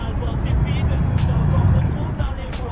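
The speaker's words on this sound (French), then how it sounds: "j'ai mis un bon petit sound V8 comme vous pouvez entendre" A deep, rumbling V8 truck engine in Euro Truck Simulator 2, hauling an oversize convoy load on small roads, drones steadily and loudly throughout, with a gritty low growl and slight rises in pitch.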